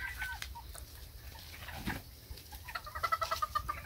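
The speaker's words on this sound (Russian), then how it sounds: "О, видишь, как он за ними ухаживает, как он квокчет" A rooster clucks softly among hens and ducks on a farmyard, with a run of quick rhythmic clucks growing clearer toward the end over low outdoor noise.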